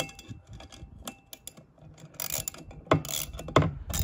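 A wrench ratcheting to tighten the bolt that holds a lawn mower blade, with quick metallic clicks and scraping in uneven bursts close to the microphone, louder toward the end.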